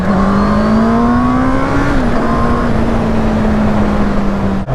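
A 2021 Honda CB650R with its standard exhaust gives a loud, steady engine drone that rises slightly and then settles while riding, ending with a short thump.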